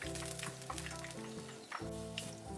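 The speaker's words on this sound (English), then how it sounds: "Fry the same way with the other half." Soft, steady sizzling of chicken wings frying in hot oil, with a faint humming tone running underneath.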